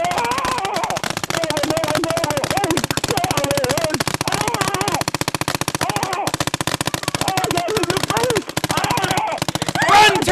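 Gunfire at a turkey shoot rattles continuously and loudly for several seconds, a dense stream of sharp reports.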